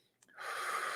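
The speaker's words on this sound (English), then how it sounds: "Take a breath." A person draws in one short, audible breath, a quick gasp-like inhale that rises to a steady airy rush lasting under a second, close and fairly quiet in a calm, mindful setting.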